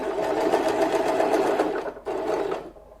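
A sewing machine stitching two pieces of cloth together runs steadily and loud up close, pauses briefly, then whirs on again before winding down.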